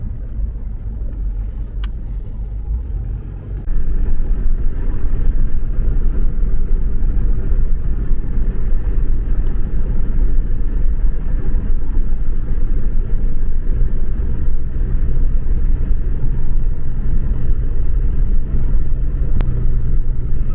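A car rolls slowly up to a park entry station, giving a steady close engine and road rumble that steps up louder after a few seconds and holds evenly, with no talk.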